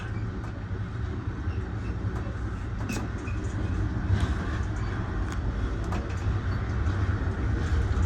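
Amtrak Pennsylvanian passenger train, hauled by a GE P42 DC diesel-electric locomotive with a baggage car, Amfleet business class, cafe and coach cars, heard from on board as a steady low rumble with rail clatter and occasional sharp ticks.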